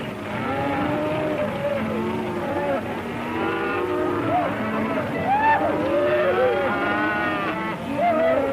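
Cattle low repeatedly in a Western drive setting, a mix of overlapping moos near and far forming a steady herd chorus for several seconds, with no talk over them.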